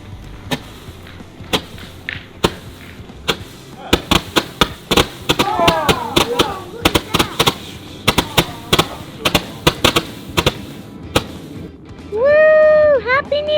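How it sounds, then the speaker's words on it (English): Large gold star firework from a New Year's Eve celebration, a string of sharp crackling bursts and pops, loud and close, building into a rapid volley before a rising whistling shriek near the end; brief voices cheer between blasts. "the fireworks gonna be this one, the biggest one in the package"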